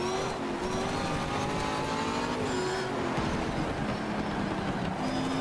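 Mosler race car engine in the racing video game GTR 2: a continuous high engine whine with shifting pitch and steady road roar, loud and sustained throughout.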